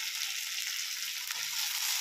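Two tomatoes fry in oil with a dense, even sizzle, a steady bright hiss close by and almost no low-end sound. One brief crackle breaks the texture.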